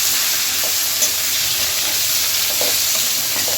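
Tomato pieces frying with onions already browned in oil, giving a loud, steady hiss and sizzle that stays close and even, with a few faint scrapes.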